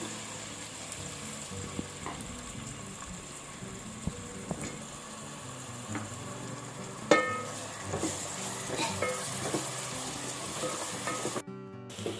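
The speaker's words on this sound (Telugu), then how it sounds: "ఆయిల్ వేడెక్కిందండి, ఉల్లిపాయలు వేసుకోవచ్చు" Chopped onions frying in heated oil for a mutton curry: a steady close sizzle with occasional crackles and stirring clinks, growing busier partway through, with no speech.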